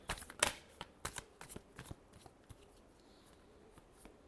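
Tarot cards being shuffled close by, a run of quick riffling flicks and taps that fade into softer, sparser handling toward the end, quiet and with no talk.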